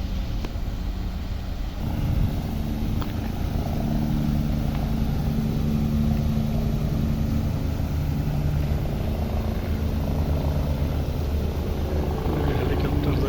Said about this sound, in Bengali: হেলিকপ্টার যাইতেছে